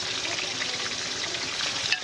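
Tilapia fries in a pan, a steady, dense crackle and sizzle of hot oil that holds at an even level throughout, close by, with no speech.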